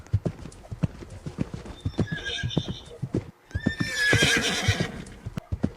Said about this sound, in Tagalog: Hop on the horse